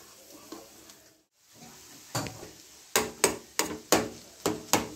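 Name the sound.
mashed potato being added and stirred in pan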